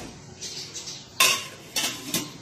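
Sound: lid closed on a 32-litre pot of water and basil

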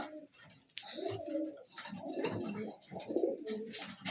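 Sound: pigeons cooing

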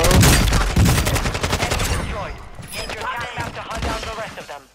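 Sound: sniper rifle gunfire in a video game

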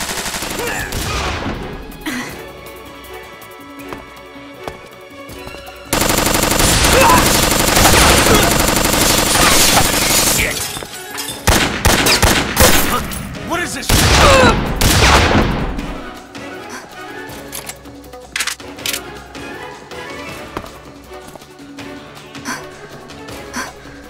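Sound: gunfire sound effects from the video game Metal Gear Solid

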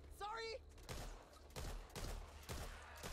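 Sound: gunfire in video game Back 4 Blood

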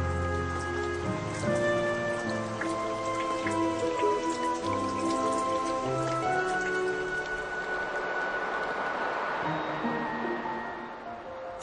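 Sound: rain falling in forest

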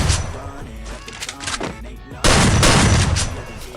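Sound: gunfire in Free Fire video game

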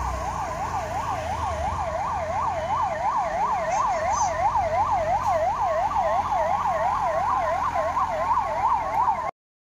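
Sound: 108 ambulance siren

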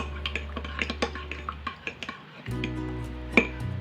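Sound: spoon mixing milk powder into milk

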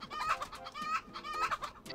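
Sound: toucan clucking in video game Snipperclips

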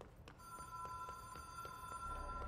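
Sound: phone call ringing in video game Control

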